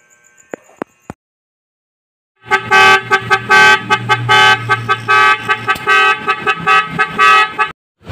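A musical motorcycle horn fitted to a Yamaha Aerox 155 or NMAX plays a loud rapid run of melodic honking tones for about five seconds, after a few faint clicks.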